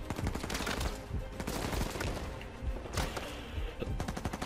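Rapid bursts of gunfire crack and rattle toward the player in the action game Uncharted 4, dense overlapping shots and impacts filling the scene with only brief lulls.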